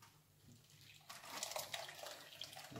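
Steeped brewing grains lifted out of the pot, with liquid running and splashing off them as they drain, a soft trickle that swells into a steadier pouring wash, quiet and close with no talk.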